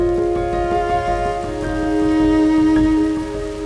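Rain falls steadily on a river in Patagonia, a soft, even wash of droplets. A loud, sustained tonal hum sits over it throughout, and no one speaks.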